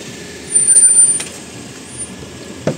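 A vehicle pulls up outdoors on a street: a low engine rumble swells for about half a second and then eases off, with a short hiss like an air brake release near the end, all without talk.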